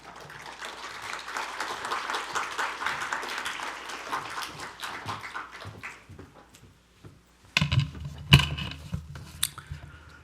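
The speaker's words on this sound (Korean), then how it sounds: "나오실 때 큰 박수로 환영해 주시면 감사하겠습니다." A church congregation at a Wednesday prayer meeting applauds to welcome missionaries Hong Gwan-ho and Seong Yeong-ran from South Africa, a broad rush of clapping for about six seconds that thins out, followed by scattered handling knocks and bumps.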